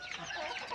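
Chickens being raised for meat in a backyard coop give off soft, overlapping clucks, brief and fairly faint, with no talking.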